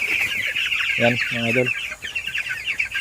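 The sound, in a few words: chickens clucking in coop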